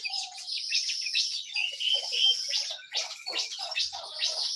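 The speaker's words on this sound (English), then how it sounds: "the yellow birds have come to this location." Yellow birds chirp and tweet in quick, overlapping bursts, a steady chorus of high calls close by with no talking.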